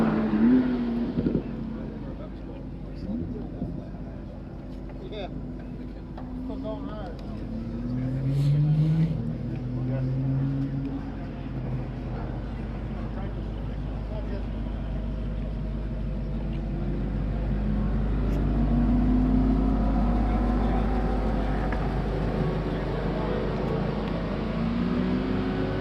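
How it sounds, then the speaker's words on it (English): A Porsche GT2 RS race car pulls away and drives off, its engine note rising and falling with a steady low rumble, while people talk over it throughout. "we're just waiting Todd Treffert in the GT2 RS"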